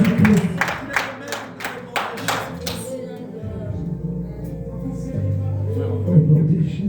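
A church congregation at a thanksgiving service claps in a fast, regular rhythm for a few seconds, then gives way to a murmur of voices and shouting under a preacher's loud voice.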